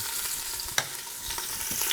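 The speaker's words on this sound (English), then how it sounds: "You should hear a big sizzle." Oxtail pieces searing in olive oil inside an Instant Pot, a faint steady sizzle with a couple of brief clinks as pieces are placed, no talk.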